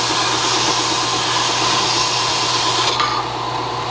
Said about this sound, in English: I just have to bevel the edge a little bit on the belt sander at the bottom side